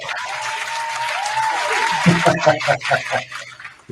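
A burst of clapping and cheering from a crowd, loud at first and then thinning out into scattered claps and laughter.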